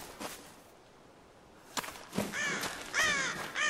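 Ravens caw in a forest in the video game Tomb Raider, several harsh calls arriving in a ragged sequence after a quiet stretch, with whooshing ambience between them.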